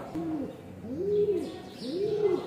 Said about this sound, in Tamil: இந்த புறா.